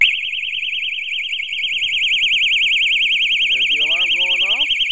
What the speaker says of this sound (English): There's the alarm going off. You can hear it.